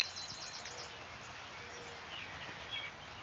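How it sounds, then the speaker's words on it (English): Soft birdsong with faint chirps and tweets drifts over a gentle, hissing wash of steady rainfall in an outdoor setting, quiet and distant, with no voices. "You can listen to the raindrops and the birds."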